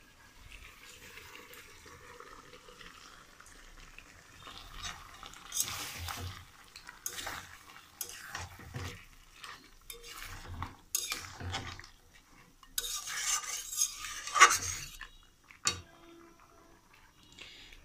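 Dal being stirred into fried flour in a metal pot while cooking muri ghonto, with intermittent scraping and clinking of a spoon against the pot and some watery sloshing, close and fairly quiet, with no talking.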